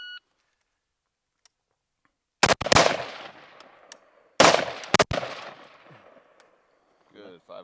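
Two loud, sharp rifle shots fired at targets outdoors, each a quick doubled crack with a ringing tail, separated by about two seconds, after an electronic start beep and followed by faint voices.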